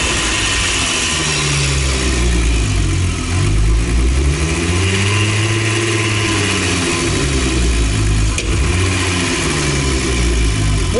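Turbocharged VR6 engine in a VW Golf 3, rated near 500 hp, runs loud and close, its pitch rising and falling through several revs over a steady rumbling idle.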